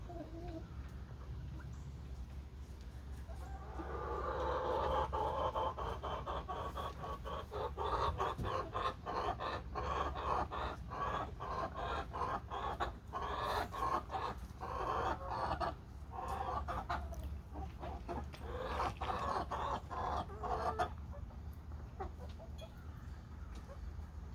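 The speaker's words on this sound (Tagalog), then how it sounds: "yan ang ating mga manok for today's video" Chickens cluck and murmur steadily in a flock, with a low background rumble throughout and no one speaking.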